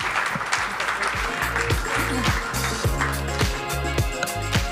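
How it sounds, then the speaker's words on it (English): Audience applause at a startup pitch event, heard as a broad wash of clapping over a rhythmic, thumping bass beat of music that plays throughout. "Round of applause."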